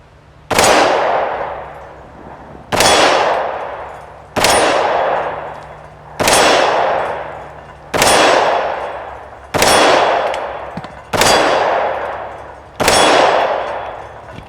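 A Tokarev TT-33 pistol fires eight loud single shots at a shooting range, spaced one to two seconds apart, each a sharp crack with a long ringing decay.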